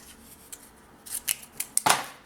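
Scissors cutting scrapbooking paper: several crisp snips, close and distinct, building to a louder final cut over a quiet room, with no voices.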